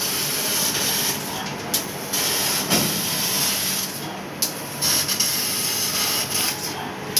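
A CNC laser machine cuts a metal sheet to carve a portrait, producing a loud, continuous hiss with brief dips and small clicks as the cutting head moves.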